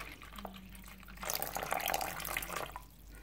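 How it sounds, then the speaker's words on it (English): Water poured into a springtail culture container holding lava rocks and wet cocoa substrate, a soft splashing trickle rising for about a second and a half after faint handling noises, fairly quiet and close. "add some water."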